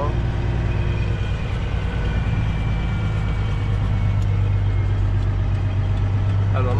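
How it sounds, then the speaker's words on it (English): A truck's diesel engine with a noticeably loud turbo after an air filter change, droning steadily and close at a constant high level for the whole stretch, with a strong low hum and no talk over it. "man, is my turbo loud now"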